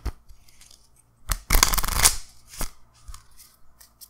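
Playing cards are shuffled by hand in a few quick bursts of riffling and snapping, with one loud dense riffle in the middle and softer flicks before and after, close up and without talk.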